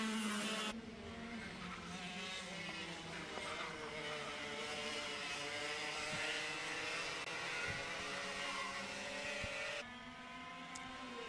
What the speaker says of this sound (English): it is Oscar Walmsley-Jones who leads the race at the moment in kart number 128